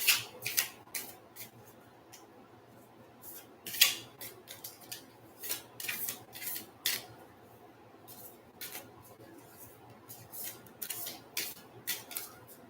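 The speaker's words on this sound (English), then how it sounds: "let's shuffle these." Crisp papery riffles and soft slaps of tarot cards being shuffled, in irregular bursts with brief pauses, close and fairly quiet with no talking.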